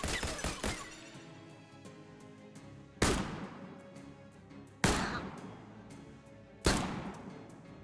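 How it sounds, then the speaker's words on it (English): Three sharp, loud gunshots in the turn-based video game Shadows Over Loathing, evenly spaced about two seconds apart, each with a ringing decay, after a cluster of quicker clicks and impacts at the start. "Now we'll target this one and shoot."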